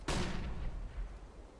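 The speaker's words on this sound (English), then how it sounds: "Follow those HE grenades. There they go, 3 of them in towards main entrance." HE grenades explode in a Counter-Strike: Global Offensive match, a sharp, loud blast followed by a booming, rumbling tail that fades over about a second.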